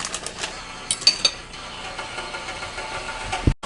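Leftover onions and peppers get mixed around in a warming frying pan, a soft scraping with a few light metallic clinks of a utensil against the pan, close up and with no one talking.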